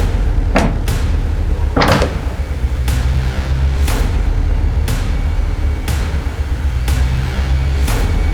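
A door in a house is struck again and again, roughly once a second, with heavy, close thuds that sound like it is being forced open. No voices are heard.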